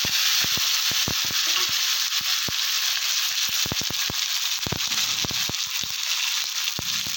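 Ground ginger, cumin and chili paste with pre-fried tomato sizzle loudly in a pan for a vegetarian jackfruit dish, a dense hiss broken by quick scraping and stirring clatters.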